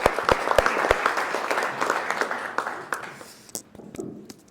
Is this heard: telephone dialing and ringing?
no